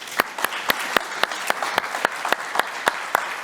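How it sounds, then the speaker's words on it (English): Audience applause for presenter Ignacio at a telecom conference on AI for RAN, with sharp, evenly spaced claps standing out over a thin, steady patter of clapping. "So a round of applause for Ignacio"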